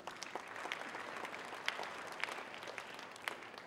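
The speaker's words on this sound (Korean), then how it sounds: "다시 한번 큰 박수 부탁드리겠습니다" Audience applause at a Korean science creativity concert, a steady moderate wash of clapping with a few sharper claps standing out, continuing throughout without speech.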